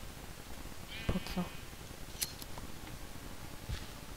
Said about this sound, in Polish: Zabijam owce.